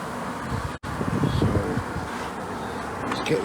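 Honey bees buzzing during a chimney extraction, a steady close hum filling the clip with a brief dropout near the start and faint rustling underneath.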